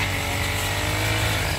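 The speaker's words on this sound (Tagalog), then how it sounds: "dumating na yung mga kanilang mga sasakyan" Vehicle engines rumble steadily as vehicles arrive at a rice farm where workers gather for planting, a continuous broadband motor drone with no speech.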